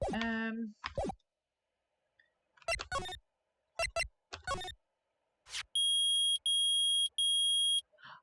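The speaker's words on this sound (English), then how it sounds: "It's beeping. The metal detector's found something." After a few short spoken phrases, a metal detector in the video game Phoenix Wright: Ace Attorney gives three loud, evenly spaced electronic beeps in a row, each about half a second long.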